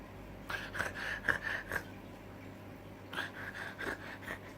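A man imitating a pug cross dog that is short of breath, producing two bursts of rapid, rhythmic wheezing gasps and snorts, close and moderately loud, with a short pause between them.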